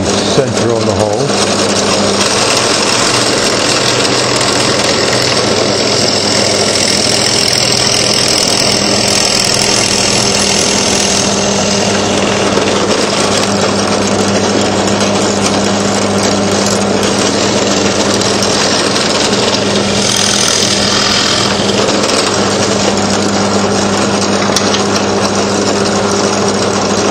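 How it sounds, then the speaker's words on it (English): A loud, steady motor drone with a whining grind of a drill press cutting a metal tube, continuous throughout, with a speaking voice audible underneath. "So bring it over to the drill press"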